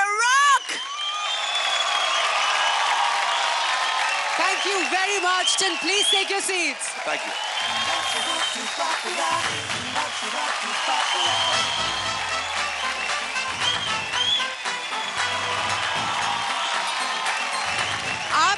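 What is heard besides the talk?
audience applause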